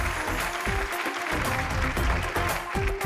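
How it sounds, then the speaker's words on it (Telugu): Studio audience applause on the set of a Telugu TV serial, a dense, steady clapping that fills the clip at moderate loudness with no speech over it. "విన్నారుగా చప్పట్లు?"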